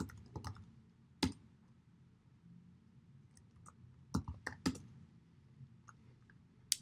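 Typing on a computer keyboard, with quiet scattered clicks and a few sharper keystrokes in small clusters, close and soft, over a low background hum.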